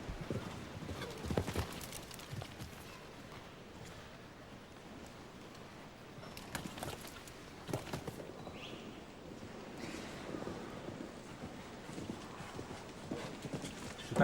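Hooves of Coupe de Coeur, a nine-year-old grey Holsteiner, clip-clop faintly and steadily during a show jumping round, with a low outdoor background.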